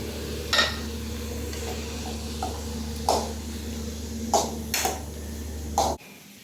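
Tomatoes go into a sizzling pan for fish biryani. A soft, steady fry hiss runs throughout, punctuated by several sharp spoon clacks and scrapes against the pan.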